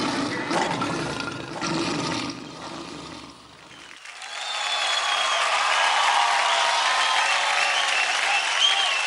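Audience applause after a children's singing performance on a TV dance-and-song stage show, a dense, loud wash of clapping that dips briefly and then swells again, continuous and crowd-wide.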